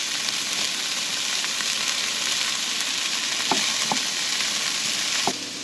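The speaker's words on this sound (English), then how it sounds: "We're going to have to fry these up until they become nice and crispy." Pancetta frying on medium-high heat in a hot pan, producing a loud, steady, dense sizzle with a few sharp ticks and pops near the end, close up and with no talking.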